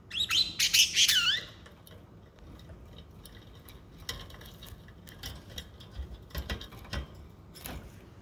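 Pet lovebirds chirping, a loud burst of shrill close calls at first, then scattered fainter chirps and ticks over a quiet indoor background.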